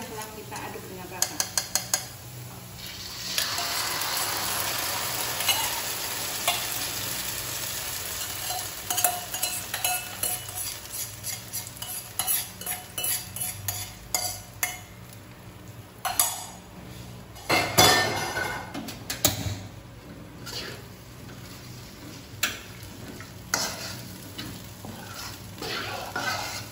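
Milk and mixed spices are stirred into clams frying in a pan, with steady sizzling under repeated metallic clinks and scrapes of a utensil against the pan, loudest in bursts near the end.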